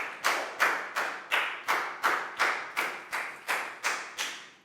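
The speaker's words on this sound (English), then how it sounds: "Big round of applause for Nadia," Ten evenly spaced, sharp claps sound in a steady rhythm, close and distinct, each ringing briefly in a classroom during a Year 4 maths lesson.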